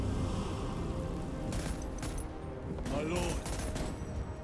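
Continuous gunfire and explosions from the video game Warhammer 40K Space Marine 2, a dense, loud barrage of rapid shots with booms layered over a constant battle din.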